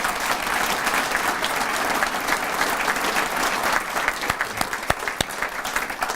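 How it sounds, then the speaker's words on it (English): An audience applauds sponsors at a morning breakfast series event, a dense, sustained round of clapping that carries on steadily, with a few sharper individual claps standing out near the end. "Give them a round of applause."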